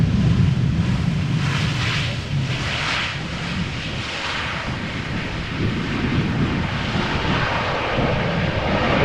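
An airliner landing at Amsterdam Schiphol Airport in humid conditions roars steadily and loudly for the whole stretch, its engine noise broad and continuous, with some wind buffeting the microphone.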